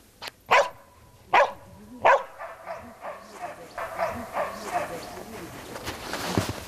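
A search-and-rescue dog in training barks in three sharp, loud bursts, then continues with softer yips and whimpers, with people talking quietly nearby.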